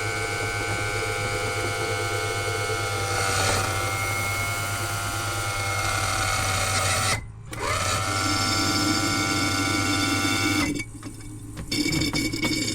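A hydraulic pump on a 1994–2004 Ford Mustang convertible top runs with a steady, loud mechanical whine. It cuts out briefly twice, then starts again.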